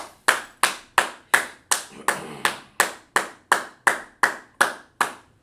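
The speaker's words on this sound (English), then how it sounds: "So let's clap it up for class." A class taking part in a Hebrew character recognition lesson claps together in a steady, evenly spaced rhythm: about fourteen sharp, close claps in quick succession, loud and clear with no talking.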